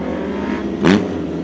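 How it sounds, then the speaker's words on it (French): Rally car pulling away again at a slalom event: a steady engine drone rises into a short, loud revving burst as the car accelerates off, then settles back to a near hum. "le commissaire a passé la voiture et ça repart"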